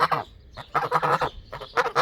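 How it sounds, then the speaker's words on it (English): Geese honking in a farmyard near a chicken tractor, several loud repeated calls coming in bursts, close by, with no talking over them. "Here comes Silly Goose."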